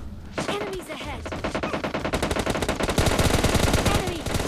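Rapid automatic gunfire rattles in PUBG Mobile Lite as dense bursts of sharp shots, growing heavier and louder across the clip, under a voice speaking intermittently.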